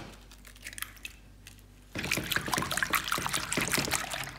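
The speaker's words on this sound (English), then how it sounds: "and I'm whisking in 2 eggs" Two eggs whisked in a big mixing bowl for a chocolate chip cookie batter, starting after a quieter stretch as a fast, steady run of close, wet scraping and clicking strokes that carries on to the end.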